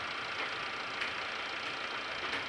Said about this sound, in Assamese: গাড়ী স্টার্ট হৈ আছে